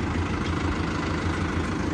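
A tractor engine idles in a low, steady rumble with an even throb, close and unbroken, no voices.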